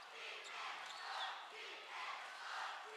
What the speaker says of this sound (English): The Olympian crowd yelling for defense.